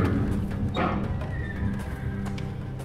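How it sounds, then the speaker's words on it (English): Nervous horses in the video game Secret Files 3 whinny loudly and stamp over a steady background din, with a sharp neigh near the start and restless movement after it. "The sounds of fighting are making the horses especially nervous today."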